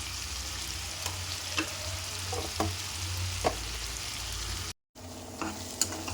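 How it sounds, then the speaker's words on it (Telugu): Potatoes and tomatoes cook with salt in a pan, giving a steady close sizzle and frying hiss broken by several spatula scrapes and clicks, with a brief dropout near the end. "ఒక స్పూను సాల్ట్ వేసుకొని టమాటా మొత్తం మెత్తగా ఉడికించుకుందాం."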